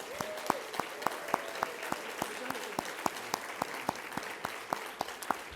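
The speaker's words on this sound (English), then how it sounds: "one more hearty round of applause for all of this year's most treasured volunteers" An audience claps for volunteers at a human services celebration, a steady round of applause with sharp individual claps standing out in a regular rhythm, moderately close and not loud.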